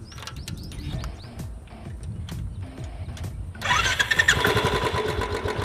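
A motorcycle engine idles and revs with a steady mechanical chatter, then grows louder and rougher in the last seconds as it is left running to burn off the remaining petrol in the carburettor.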